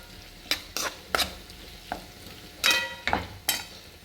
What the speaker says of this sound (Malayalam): ಗ್ಯಾಸ್ ಸ್ಲೋ ಆಗಿ വെച്ചിട്ട് ഫ്രൈ ആക്കി എടുക്കുക